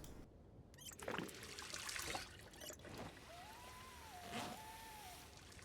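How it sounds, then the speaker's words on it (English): Water trickling and splashing as bottles are filled, a soft uneven flow with a few louder gurgling spurts and a faint tonal squeak, low in level and close by. "I want to fill the water bottles here"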